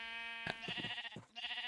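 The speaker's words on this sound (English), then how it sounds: "So of course it's got fluffy sheep in it." A Minecraft sheep in a modded world bleats in a nasal, wavering call, sounding twice in quick succession, loud and close with nothing else over it.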